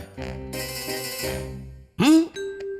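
A cartoon telephone ringtone plays a short, bright electronic melody of repeated tones, followed by a rising sliding sound effect and a final sustained beep.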